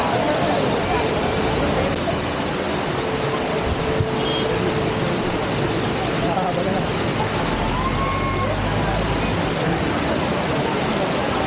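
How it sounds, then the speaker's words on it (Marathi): Amboli's main waterfall in the Western Ghats of Maharashtra roars as a steady, loud broadband rush that fills the whole scene, with a busy crowd's murmur faintly mixed into the continuous water noise. "आता आपण आलो आहोत आंबोलीच्या मेन धबधब्याला"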